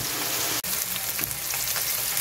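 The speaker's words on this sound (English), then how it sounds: "Grease popping up at me." Hamburger buns frying in hot popping grease on a stovetop, a steady dense sizzle broken by a sharp spatter pop early on, close and continuous with no talking.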